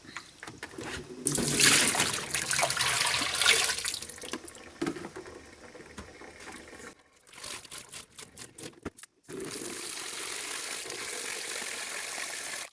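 Running tap water splashing and trickling as a crocheted yarn shawl is rinsed in a sink, close and uneven, with handling sounds, a brief pause around the middle and a steady flow resuming near the end.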